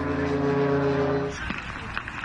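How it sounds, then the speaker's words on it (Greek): An unmanned drone aircraft flies over Moscow, a steady droning propeller engine hum that holds loud and even, then cuts to a rougher, noisier stretch. "Μη επανδρωμένο αεροσκάφος πετάει πάνω από τη Μόσχα."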